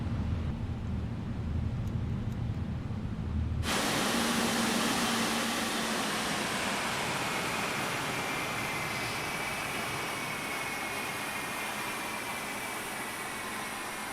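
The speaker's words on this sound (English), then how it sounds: "And with that engine shut off, ladies and gentlemen, we have concluded our trip here." Boeing 777 engines shutting down in Microsoft Flight Simulator: a loud, steady broadband engine roar cuts back abruptly early on, then a sustained airy whine and hiss carries on with a faint fading tone.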